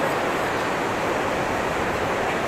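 A steady, loud roar of a mountain waterfall pours without pause, a dense continuous wash of sound close at hand, heard from a bridge in the Urgam valley, Uttarakhand.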